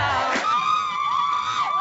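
A crowd at a red carpet movie premiere lined outside a theater cheers and yells. The shouts and whoops form a steady, bright wash, with one voice rising above the rest.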